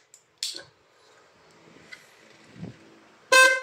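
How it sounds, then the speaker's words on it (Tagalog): After some quiet clicks and handling noises, a motorcycle horn powered by a freshly recharged 12.8-volt battery gives a single short, loud honk near the end. "So, try natin yung busina."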